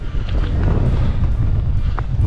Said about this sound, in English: Really windy, really, like strong enough to take you off your feet windy.